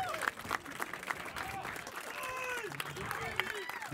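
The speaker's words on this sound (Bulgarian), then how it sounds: "Искам да посрещнем с аплодисменти първия ни гост." A studio audience at a Bulgarian show claps to welcome the first guest, a moderate, uneven applause with whoops and voices rising through it over a few seconds.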